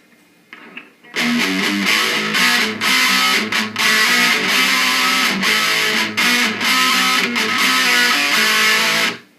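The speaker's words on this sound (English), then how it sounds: "Here's what it sounds like with the unmodded pedal Boss DS1." An electric guitar played through a stock, unmodified Boss DS-1 distortion pedal, heavily overdriven chords and riffs ringing loudly and continuously for several seconds after a short quiet start, with no talking.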